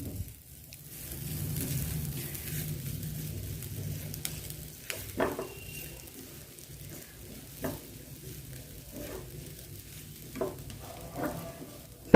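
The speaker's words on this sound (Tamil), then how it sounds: "நல்லா லோ ஃப்ளேம்லேயே வச்சு நம்ம இதை வறுத்து விட்டுறலாம்" Grated coconut dry roasts in a pan over a low flame, a soft low rustle with occasional scraping stirs and light taps spread across a quiet, steady background.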